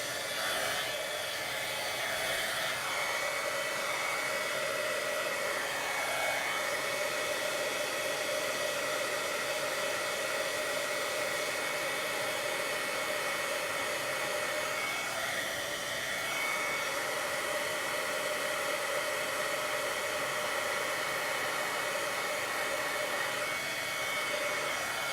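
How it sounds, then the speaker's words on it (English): A handheld craft heat tool blows steadily for the whole stretch while heating embossed pieces for a Christmas gift card holder, a continuous loud hair-dryer-like whoosh with slight shifts in pitch as it moves. "now I'm gonna bring it in my heat tool and heat both of these up"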